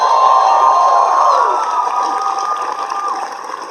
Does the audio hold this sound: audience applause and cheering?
yes